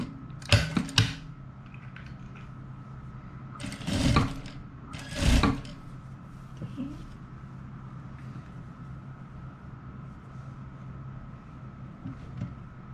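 A sewing machine stitching a nightgown collar makes three short mechanical whirring bursts spread over several seconds, with quiet gaps between them and a faint steady hum in the background.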